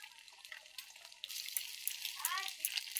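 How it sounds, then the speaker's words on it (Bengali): Two eggs dropped into hot oil start frying, a bright crackling sizzle that swells after a quiet start and keeps spitting with small pops. "এখন আমি দুটো ডিম দিয়ে দেবো এই তেলে।"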